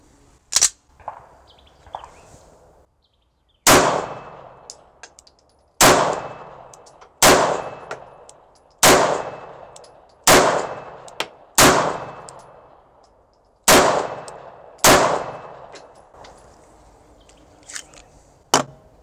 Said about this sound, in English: quick fire with random cheap ammo